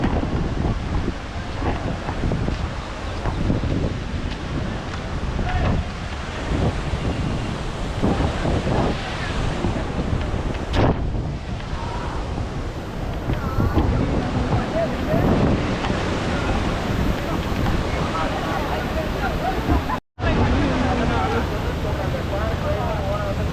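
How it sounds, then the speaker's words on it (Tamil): Water at Kallanai dam rushes forcefully in a loud, dense, continuous roar close by, with wind buffeting the microphone, voices talking over it and a brief dropout near the end. "எவ்வளோ தண்ணி ஃபோர்ஸாக வருதுன்னு பாருங்கள்"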